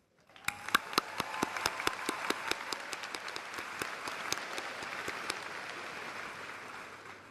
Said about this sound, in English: I ask that we give a big round of applause for today's musicians